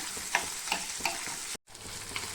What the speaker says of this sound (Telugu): తాలింపులో చక్కగా ఆయిల్లో ఇవన్నీ రొయ్యలు మనం ఉడకబెట్టి తీసుకున్న రొయ్యలు చక్కగా వేయించుకుంటే